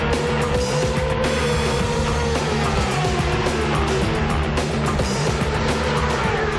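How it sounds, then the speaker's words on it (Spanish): Suzuki Català racing motorcycle pulling away at the start of a 24-hour endurance race, a loud continuous engine drone with rising revs amid the surrounding pit and track noise. "La segunda moto de Suzuki Català toma la salida unos segundos más tarde que el resto de participantes."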